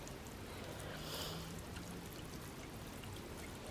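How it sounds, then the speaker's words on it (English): Freshly transplanted artichoke plants get a generous garden watering, producing a faint, steady trickling and pouring wash of water that runs evenly throughout with no voices. "Give it a good watering in."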